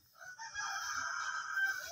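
Rooster crowing in the video game Manok na Pula, one drawn-out, clear crow heard alone at moderate loudness.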